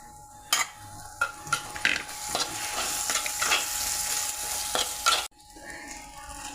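Curry paste for a Kerala fish curry frying in a pan, with a steady sizzle and repeated scraping stirs of a spoon. The stirring comes in irregular bursts before the sound cuts away near the end.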